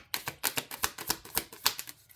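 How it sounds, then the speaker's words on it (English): A deck of cards being riffle-shuffled during a tarot-style spirit reading: a quick train of crisp, close flicking ticks for about two seconds, fairly loud and rhythmic, with no talking. "All right, one more shuffle."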